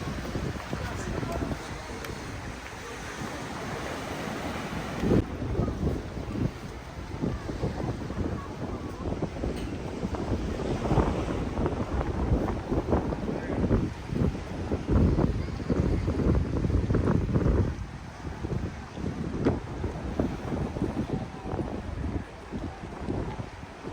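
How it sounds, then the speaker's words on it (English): Strong wind on the Amalfi Coast buffeting the microphone in gusty, rumbling waves across the whole stretch, with rain falling and a person talking intermittently underneath. "it's really windy, guys, so I hope you can hear me"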